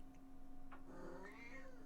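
A cat gives a single drawn-out meow with a rising and falling pitch, close and moderately loud over a faint steady hum and light ticking in an indoor room.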